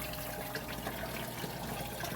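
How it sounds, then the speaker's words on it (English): Water running through a utility sink and draining into a 5-gallon bucket while swapping out a rock tumbler of South Dakota prairie agate, a steady close wash of flowing, trickling liquid with no voices. "all of this water that's going through this utility sink is going into a 5-gallon bucket that I dump outside"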